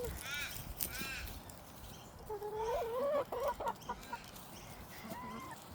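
Backyard chickens cluck and call at an afternoon feeding, with a rooster-like crow rising in the middle, close and lively, while people talk and laugh nearby.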